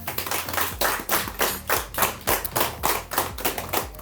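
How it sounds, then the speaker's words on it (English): A group clapping in a culinary program kitchen, a short burst of rhythmic, close applause with distinct individual hand claps and no talking. "Give yourself a round of applause."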